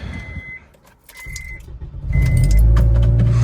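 A 2000s Honda car after an axle replacement: faint key jangles and a chime, then the engine starts up and settles into a loud, steady, close rumble.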